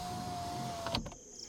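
A car's power window motor whirs as the glass is lowered slightly, a smooth steady whine that stops abruptly after about a second, close by and alone.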